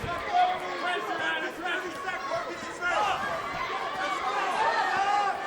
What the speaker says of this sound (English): You can hear everybody in the crowd saying the same thing I am. Get up.